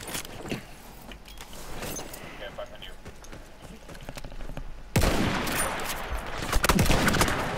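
Battlefield 1 gunfire in a multiplayer match, a mix of scattered rifle shots and bursts at moderate distance, growing louder and denser partway through amid battle noise.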